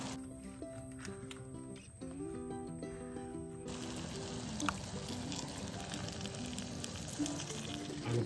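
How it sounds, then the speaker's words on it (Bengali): Water poured into a spiced mixture frying in a pan at a forest campsite, a steady sizzle swelling into louder crackling hiss midway and continuing under faint background music. "এর সাথে একটু জল অ্যাড করবো আমি"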